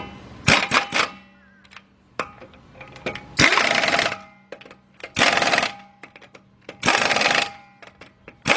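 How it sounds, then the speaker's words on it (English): Bursts of a pneumatic impact wrench tightening wheel bolts on a 2004 Volkswagen Beetle during brake work, four loud rattling runs of about half a second each, separated by quieter clinks and handling noises. "I'm going to tighten up those bolts"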